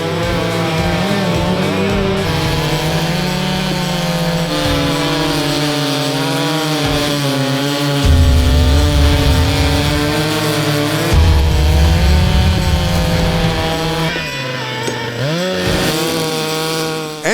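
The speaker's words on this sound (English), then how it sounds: "Forget supercars, we've got super chainsaws." Chainsaws roar through logs in a competitive cutting race, one loud close engine whining at high revs with pitch dips as the chain bites, a deeper throbbing layer surging in twice, and no voices.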